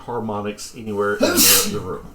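A single loud sneeze bursts out during conversation at a tabletop role-playing session, set among ongoing talk from several people.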